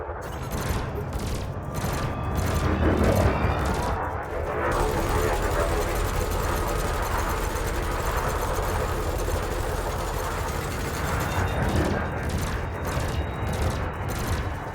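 Multi-cannon fire aimed at a harmless target drone in the space game Elite Dangerous, a continuous rapid rattle of shots over a steady low ship-engine rumble, holding loud for the whole stretch.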